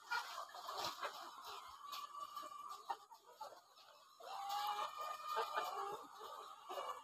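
Caged laying hens on a poultry farm cluck and chatter continuously, a crowded flock heard at moderate distance with a steady background hum and no speech.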